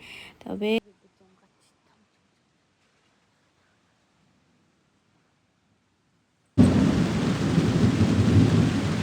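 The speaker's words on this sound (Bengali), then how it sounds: "এই যে ঝড় বৃষ্টি সেই জোরে ঝড় উঠেছে" Heavy, steady rain roars in close at about four in the morning after a long stretch of near silence, a dense wash of thunderstorm noise with strong wind; a brief voice is heard at the very start.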